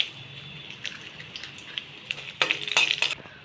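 Garlic and dried red chillies dropped into hot oil, starting with faint scattered sizzles and a few clinks, then a louder burst of crackling frying near the end.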